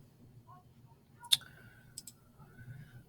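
Computer mouse clicks during a PhET skate park simulation tutorial: one sharp, fairly close click, then a couple of lighter clicks a moment later in an otherwise quiet room.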